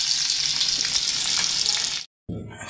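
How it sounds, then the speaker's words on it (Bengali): Fish oil fries loudly in a pan with a dense, steady sizzle. It cuts out briefly near the end, then resumes. "এখানে মাছের তেলটা ভাজা হচ্ছে"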